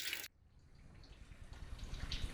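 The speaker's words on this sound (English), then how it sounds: "you can see a nice solid flow of water coming out of the radiator there" Coolant water drains from a Toyota Yaris radiator in a steady, gurgling flow, a close continuous splashing stream after a brief burst of noise at the start, with no talk.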